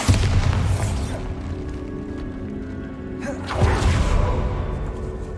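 A Bombarda spell explosion in Hogwarts Legacy, with a loud boom right at the start and a second heavy burst about midway, both over continuous game ambience.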